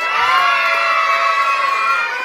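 A crowd of children at a clown show for Children's Day in Tepanco de López shouts together in one loud, sustained, high-pitched roar from start to finish.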